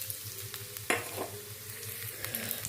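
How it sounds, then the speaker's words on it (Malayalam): Coconut pieces fry in hot coconut oil in a pan for a beef curry, a steady close sizzle with crackling bursts and a few scraping stirs. "ചൂടായ വെളിച്ചെണ്ണയിലേക്ക് കുറച്ച് വലിപ്പത്തിലരിഞ്ഞ തേങ്ങാകൊത്തും കൂടെ ഇട്ട് കൊടുക്കാം."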